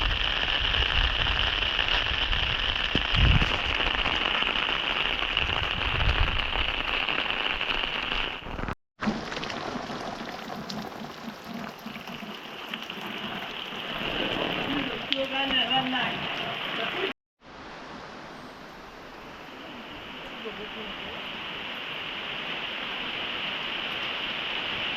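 Steady monsoon rain in rural Konkan, a dense hiss of drops falling on surfaces throughout, briefly cut off twice, with someone talking over it in places.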